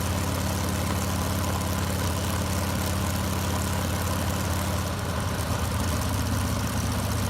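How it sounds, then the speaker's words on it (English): A big radial piston engine runs steadily and loudly throughout, with a deep throbbing exhaust note that shifts slightly in rhythm near the end. "Hearing its distinctive radial exhaust note"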